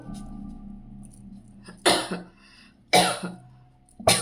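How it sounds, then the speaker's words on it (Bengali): Three sharp, harsh coughs a second apart, close and loud, separated by quiet breathing. "আমি বেশিক্ষণ কথা বললেই কাশি আরম্ভ হয়ে যাচ্ছে"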